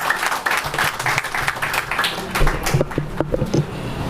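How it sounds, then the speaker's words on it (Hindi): Audience applause welcoming a speaker at a gathering of Valmiki community organisations and a national joint front against contract labour, steady dense clapping throughout, fairly loud and near, with a few brief voices mixed in. "मैं एक बारी गुजारिश करूंगा जोर से ताली बजाकर उनका स्वागत करें"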